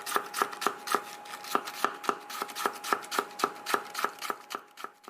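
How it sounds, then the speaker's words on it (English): A knife chops produce in a grocery store in the 1989 film Intruder: around seventeen crisp, evenly spaced cuts in a steady rhythm, with a faint sustained tone underneath and no voices. "Chopping up the produce."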